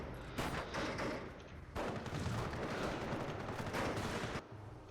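Rapid gunfire from a Company of Heroes match with the EF mod, sniper shots among sustained bursts of machine-gun and rifle fire in a dense, continuous battle din that briefly drops out and resumes.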